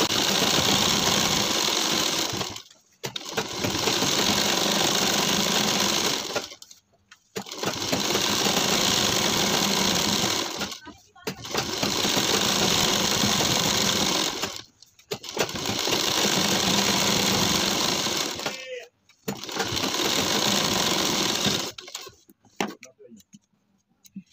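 A sewing machine stitches elastic into a pajama waistband in six loud, even runs of about three seconds each, separated by short silent pauses.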